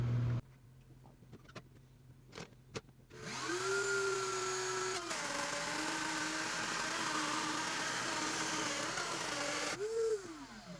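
A small router table spins up and cuts wood after a few clicks and taps, a loud steady whine that bogs and dips under load, then winds down and surges again near the end.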